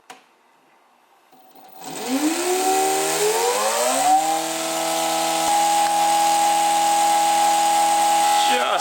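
A homemade brushless motor built from LEGO parts spins up at low speed, its whine rising in pitch over a couple of seconds, then holding a steady, loud electric hum with a sharp tonal note.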